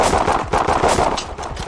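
Rapid automatic gunfire from the blocky online shooter Blockpost crackles in quick bursts of shots, loud and close, with brief gaps between volleys.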